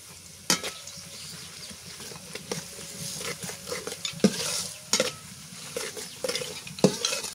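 Food sizzles steadily in a hot pot over a clay stove while a utensil scrapes and clacks against the sides in irregular stirring strokes, close and clear.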